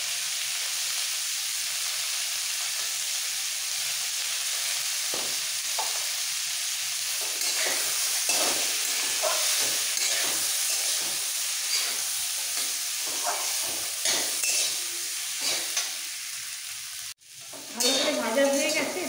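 Beans and potatoes with a pinch of coriander powder sizzle and hiss steadily in a pan, broken by scraping stirs and the clatter of a spatula or lid near the end.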